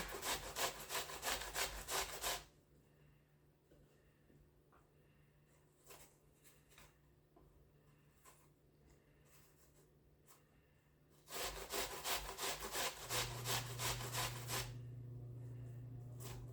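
An apple is grated for turkey meatloaf, giving fast, rhythmic, rough rasping strokes in two close bursts with a quieter pause between them, no talk over it.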